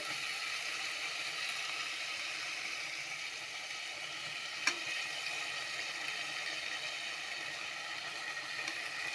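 Food fries in a pan with a steady, even hiss that carries on unbroken from start to end, with a single faint click partway through and no voices.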